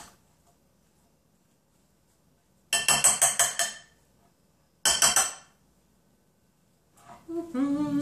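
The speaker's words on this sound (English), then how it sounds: "So give it a good stir" A fork or spoon stirring stuffing in a microwave bowl, heard as two close bursts of rapid clinking against the bowl, followed by a short voice at the end.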